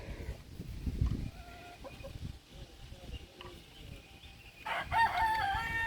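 Farm chickens cluck softly nearby while a rooster lets out a crow near the end, with faint rustling and scattered low noises in the background.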